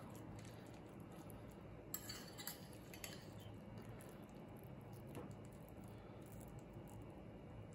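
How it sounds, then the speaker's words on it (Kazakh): A knife cutting through brizol on a plate gives faint, close clinks and scrapes of cutlery against the dish, with a few sharper taps standing out from a quiet background. "Бризольімізді былай кесеміз."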